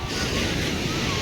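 Sea waves wash steadily onto the shore at Somnath in Gujarat, a broad continuous roar of surf mixed with wind buffeting the microphone, close and fairly loud throughout.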